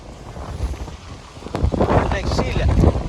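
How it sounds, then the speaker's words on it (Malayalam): Strong gusty wind during rain in Qatar buffets the microphone outdoors beside a vehicle, rumbling low and loud and swelling stronger in the second half, with someone talking over it. "നല്ല കാറ്റാ"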